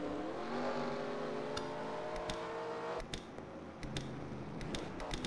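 Race cars pull away from pit road at Charlotte Motor Speedway in a Pepsi Racing Series game, their engines droning and rising together, with sharp clicks and shifts cutting through the steady roar.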